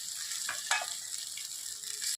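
Ginger, tomatoes and onions frying in a pan give a steady close sizzle, with a couple of soft stirring scrapes early on.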